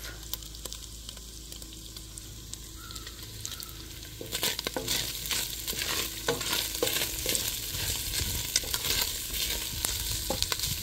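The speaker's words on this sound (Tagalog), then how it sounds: "Luto tayo ng opo with ground beef." Upo (bottle gourd) and ground beef are stir-fried in a home kitchen pan. A quiet stretch gives way around four seconds to steady, loud sizzling with repeated scraping and clinking of a utensil as the food is tossed, with no talking.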